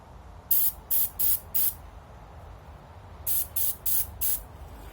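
Quick spray bursts of Durablue gun finish coating a small Savage/Fox Model B part: two sets of four sharp, close hisses separated by a short gap, with a faint hum underneath.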